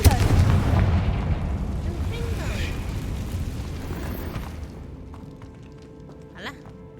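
Confringo fire spell from Hogwarts Legacy exploding with a heavy low boom at the start, then a long rumbling, crackling decay that fades over several seconds, with a faint later pop.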